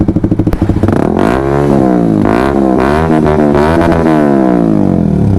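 A Honda CBR150R fitted with a Yoshimura Alpha carbon exhaust revs hard, opening with quick throttle blips and then rising and falling in long, loud, raspy sweeps, close to the microphone and alone.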